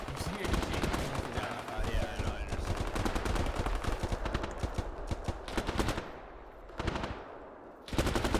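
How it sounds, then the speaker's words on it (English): Sustained machine-gun suppressing fire on a hill in a German-squad war video game, loud rapid bursts rattling nearly nonstop, briefly pausing then resuming, with voices underneath. "Erste Gruppe covering fire, put suppressing fire down on that hill"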